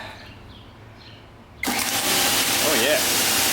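A Ryobi 1600 psi electric pressure washer switches on abruptly, jumping from a quiet background to a loud, steady, close pump roar with a hissing spray that holds to the end; a voice is heard beneath the motor noise.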